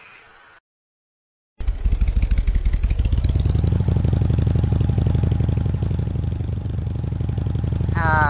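Motorcycle engine in Roblox Bloxburg revving steadily as the bike climbs a hill on a path, a loud continuous rhythmic drone that starts abruptly after a short silence and holds to the end.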